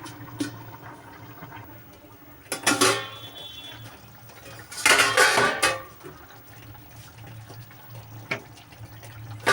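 A metal lid goes onto a cooking pot holding rohu fish, ridge gourd, potato and lentil dumplings, with a few sharp clanks and two louder bursts of metallic rattling and scraping over a quiet kitchen background.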